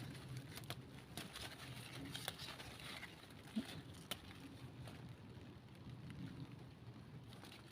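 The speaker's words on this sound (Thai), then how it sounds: "ดูสิ นี่ฝนก็ตก" Steady rain patters all around, a dense even hiss with a few sharper drops and taps standing out, and no talking.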